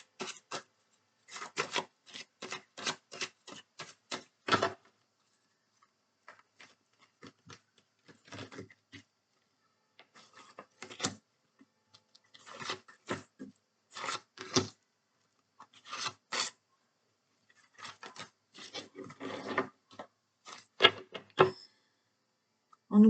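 Tarot-style cards being shuffled and laid out on a table, heard as quiet bursts of rapid riffling and rubbing, separated by pauses, with softer slides and taps as cards are set down; no talking.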